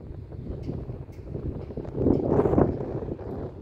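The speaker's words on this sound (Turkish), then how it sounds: "Biraz rüzgarlı." Wind buffeting a microphone outdoors beside a motorhome, low rumbling gusts that swell and strengthen toward the middle, then ease slightly.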